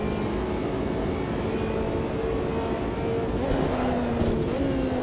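Car engine in a racing video game, a small pickup truck with a buzzy, angry-bee whine: a steady, continuous drone with rising pitch sweeps as it revs through the gears, loud and constant with no talking over it.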